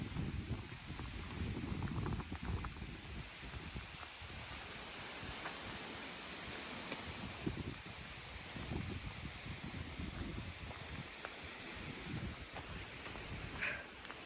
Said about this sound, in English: but really, really windy.